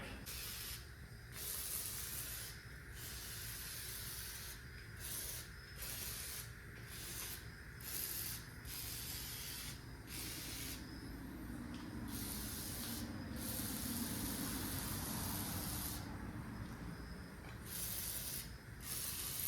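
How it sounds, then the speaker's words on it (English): Long hissing bursts of an aerosol spray onto an engine crankshaft, sprayed in repeated pulses with short gaps, close and steady over a low background hum. "Spray the crank."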